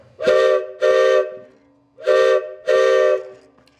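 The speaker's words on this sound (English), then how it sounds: "It is a bellows-driven train whistle." Two pairs of steady, loud whistle blasts from a homemade bellows-driven train whistle, each pair made of two long chord-like toots separated by short gaps, with no talking.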